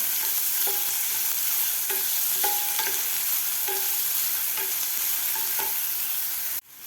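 Finely chopped medium onion sautéing in a pan for a wheat-flour breakfast dish, a steady close sizzle with regular spatula scrapes and taps about every half second, no voices, ending abruptly.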